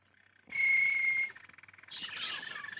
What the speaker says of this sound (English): I want a nice singing canary.